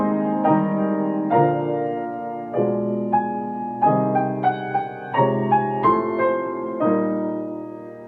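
Piano chords from a Beethoven dolce theme, each struck with all notes sounding precisely together, a slow sequence of about a dozen solid, moderately loud chords with no talking.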